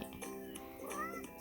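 A cat in a video game meows several times in short, bright, tonal calls, one rising sharply, at low volume with faint background.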